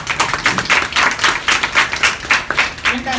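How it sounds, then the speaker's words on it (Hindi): A small group in a classroom-style lecture on accounting careers claps in a quick, uneven burst of hand claps, fairly close and moderately loud, with no speech over it. "तालियां बजा दो इनके लिए"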